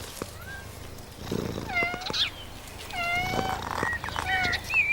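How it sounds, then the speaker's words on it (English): Cats around catnip give several distinct meows, some rising and drawn out, scattered over a few seconds against a quiet background, fairly close. "Cats are strangely addicted to this fragrant herb."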